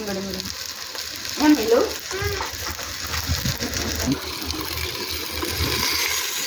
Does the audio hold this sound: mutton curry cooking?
yes